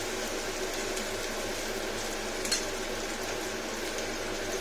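Spiny gourd slices fry in a little oil in a pan, giving a steady, moderately loud sizzling hiss with one brief clatter midway.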